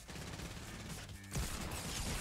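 Pump shotgun and hand cannon blasts in a Fortnite tournament match pop off in a short cluster of punchy shots, with a heavier boom midway, set against busy game noise.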